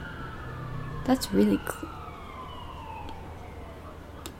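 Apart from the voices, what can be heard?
emergency vehicle siren outside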